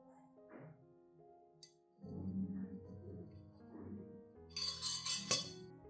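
A teaspoon clinks against a glass cup as coffee is added to charcoal powder, giving several bright ringing taps with sustained glassy tones and a louder rattling burst near the end.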